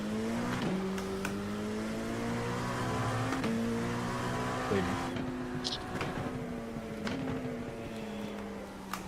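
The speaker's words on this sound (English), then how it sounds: "Just watch for this car rejoining onto the oval." Race car engines in a Daytona endurance racing video game drone and shift pitch as cars lap the oval, with gear changes and faint tire noise under a steady engine tone.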